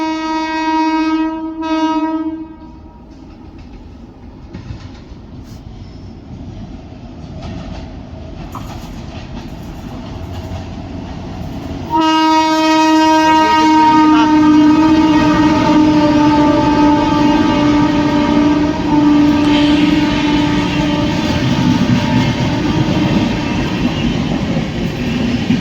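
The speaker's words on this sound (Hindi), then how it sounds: "बारह 405 भुसावल गोंडवाना एक्सप्रेस" The Bhusawal–Gondwana Express sounds a long, loud two-tone horn, pauses, then blasts it again continuously as the train rolls past nearby with rumbling, clattering wheels.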